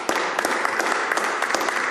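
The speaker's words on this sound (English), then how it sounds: "thank you for the round of applause" Applause in the Canadian House of Commons, a dense, even round of clapping from many members filling the chamber for a couple of seconds.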